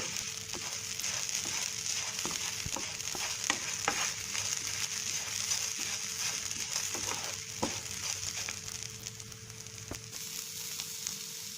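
Grated coconut roasting in a pan with a small piece of asafoetida while making Kerala sambar, giving a steady close sizzle and frying crackle with occasional light stirring scrapes and ticks, no talking.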